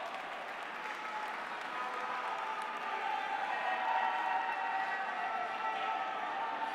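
An audience applauds award winners at a Robocampeones 2015 robotics competition prize ceremony, a continuous, full roar of many hands clapping with a crowd murmur, swelling slightly midway and holding steady.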